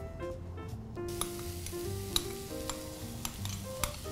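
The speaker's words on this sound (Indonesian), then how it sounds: "Kita lanjut untuk gongseng cabai hijau." Green chilies stir-fry in about three spoons of hot oil with a steady sizzle. A spatula scrapes and taps the pan at irregular moments.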